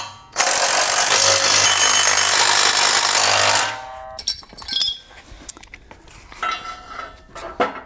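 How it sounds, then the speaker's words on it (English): Bolts on a MicroSport Overland trailer being tightened with a 3/4-inch socket, a loud, close burst of harsh powered rattling for about three seconds, followed by quieter clanks and handling noises of metal parts. "go ahead and tighten it down with the 3/4-inch socket"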